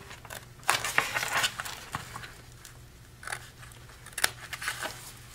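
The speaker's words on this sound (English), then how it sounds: "So we're going to go ahead and cut this. We're going to cut again that score line out." Scissors snip through paper along a score line in several short, crisp crunching bursts separated by brief pauses, close and clear over quiet background noise, with no talking.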